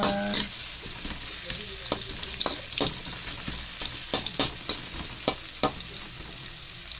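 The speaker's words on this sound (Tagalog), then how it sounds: "Wait natin mga golden brown ang ating bawang." Garlic frying in a pan until golden brown, a dense crackling sizzle with repeated sharp spatula taps and scrapes throughout, close and steady, no one speaking.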